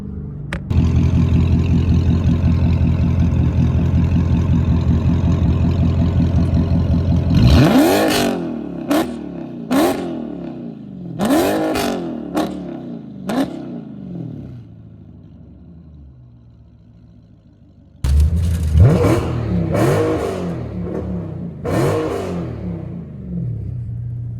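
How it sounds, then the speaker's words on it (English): A tuned Dodge SRT 392's exhaust idles with a deep steady rumble, then a string of sharp revs bark and fall away, pause, and return in another loud burst. "I really want y'all to hear this exhaust"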